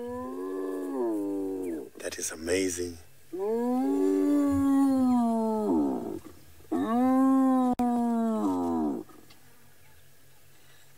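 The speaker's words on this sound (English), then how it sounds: "So you can hear that the hyenas have got different kind of calls." Hyenas give a series of long, rising whooping calls in the wild, several drawn-out cries with pauses between, loud and fairly close, with a person briefly speaking in between.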